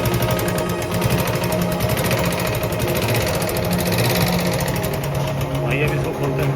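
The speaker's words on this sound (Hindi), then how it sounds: "इंजन में साउंड बढ़ गया है" A Royal Enfield UCE engine with a bad bearing and crank noise runs continuously, a dense, steady mechanical clatter and knocking hum, loud and close, while someone talks over it.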